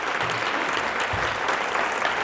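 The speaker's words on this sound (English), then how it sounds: "So y'all give them a round of applause for me." Audience applauds staff at a Benedict College Women's Business Center speech, a steady dense wash of clapping that fills the whole stretch without a break.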